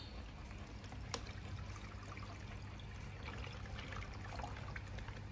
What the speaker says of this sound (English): put some water into this